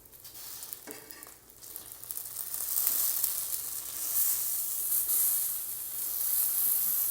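Masala-coated sardines fry in foil on an oiled tawa, giving a steady close sizzle and hiss that swells gradually, with a few soft scraping touches and no voices.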